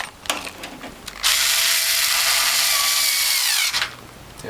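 Power drill driving a screw into a bracket of the new bottom base plate on a Norwalk juicer: a short ratcheting start, then about two and a half seconds of loud, steady high whirring before it stops.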